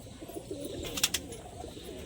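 Soft pigeon cooing close by, a low murmuring coo over a faint background hum, with a brief higher chirp partway through.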